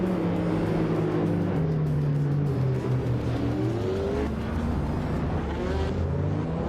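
Race cars, including a 2022 McLaren Elva, roar in a racing video game at Circuit of the Americas, engines droning steadily and rising in pitch as they accelerate together, loud and continuous with no voices.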